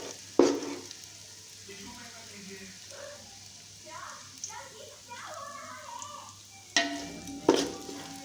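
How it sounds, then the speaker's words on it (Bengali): Onions frying in oil in a pan while biryani is being made, a steady low sizzle running under a stretch of voices, with a few sharp clatters of stirring near the start and the end. "তো পেঁয়াজগুলো ভাজা হয়ে গেছে, এবার আমি বেরেস্তাটা তুলে নেব"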